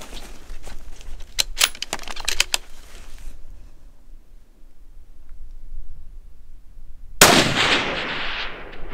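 A 6.5 Creedmoor rifle shot at a mule deer at about 400 yards: one sharp, loud crack late in the clip with a ringing decay, after a stretch of quiet outdoor noise and some earlier clicks.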